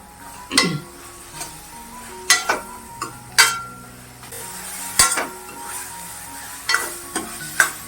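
Goda masala sizzles softly in a pan while a metal spoon stirs and scrapes, giving irregular sharp clinks against the pan over a low, steady frying hiss.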